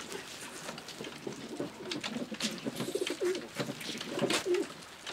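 Janssen, De Klak and Meulemans line pigeons give low, bubbling coos in short repeated bursts near the listener, with small rustles and clicks between calls.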